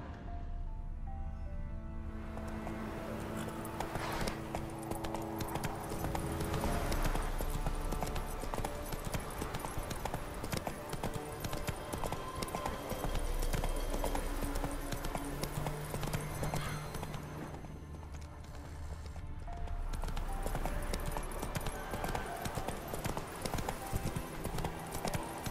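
Rhythmic clip-clop of a horse's hooves trotting in The Witcher 3 video game, steady and close, with occasional whinnies mixed in over the continuous hoofbeats.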